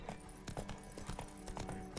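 Hooves of Roach, Geralt's horse in The Witcher 3, clip-clop in a steady trot with fairly close, regular thuds over ambient game sound.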